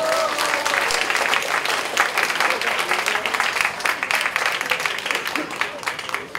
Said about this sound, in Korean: 먼저 박경재 명예학장님을 뜨거운 박수로 이 자리에 모시겠습니다.